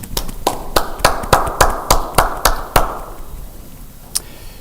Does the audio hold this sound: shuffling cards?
no